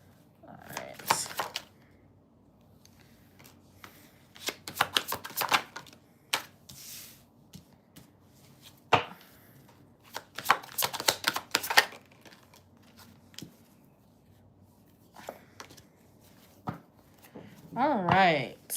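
Tarot cards shuffled during a live reading, giving intermittent bursts of crisp riffling and slapping at close range, separated by quiet pauses.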